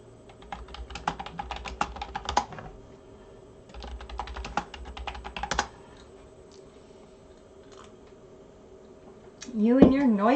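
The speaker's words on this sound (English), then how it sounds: "You and your noisy typing." Close, clattery computer-keyboard typing in two quick bursts of rapid keystrokes separated by a pause, followed by a voice speaking near the end.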